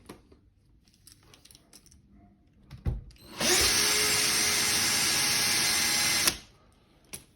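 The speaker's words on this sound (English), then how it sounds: "So if we run the drill," A power drill whirs loudly and steadily for about three seconds, close by, after some quiet handling noises and clicks in a workshop.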